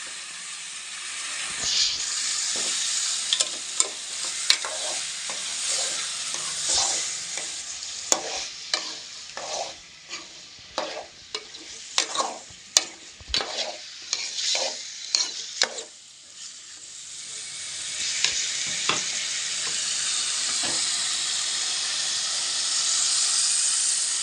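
Chicken pieces coated in ginger paste fry and sizzle steadily in a pan, with repeated stirring scrapes over a constant hiss, loud and close, no talking.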